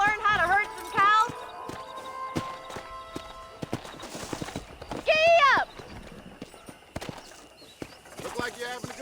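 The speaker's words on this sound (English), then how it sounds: "I need an extra hand to take out the herd to pasture." Horse hooves clip-clop at a steady pace in a Red Dead Redemption herding scene, with a short neigh and a voice urging the horse on over the hoofbeats.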